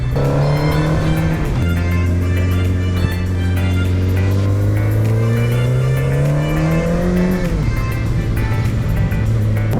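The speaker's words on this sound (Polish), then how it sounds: "Aleje, aleje, tu motocykl szaleje." A video game motorcycle engine hums steadily, its pitch rising slowly as it accelerates, then dropping with a gear shift before climbing again.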